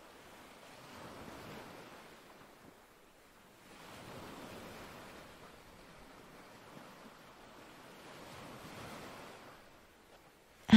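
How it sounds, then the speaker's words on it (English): Ocean surf rolls onto a black sand beach in three slow, broad surges, each swelling to a soft roar and easing back into a quieter hiss, with no voices present. "the white foaming waves crashing onto the shore"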